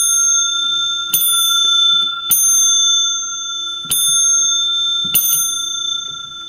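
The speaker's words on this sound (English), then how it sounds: "The bell is nicely adjusted." An old telephone bell with two gongs and 1000-ohm coils rings in four separate short bursts, each a bright metallic clang that sustains and rings on between strikes, loud and close with no talking.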